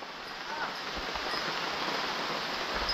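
Heavy evening monsoon rain in rural Konkan falls outdoors as a steady, broad hiss, close and continuous, with a few faint low bumps beneath it.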